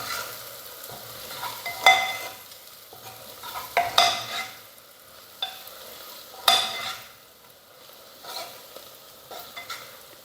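A spoon stirs chili powder and coriander powder through bitter gourd curry in a pan, with repeated scraping strokes over a steady low sizzle of frying.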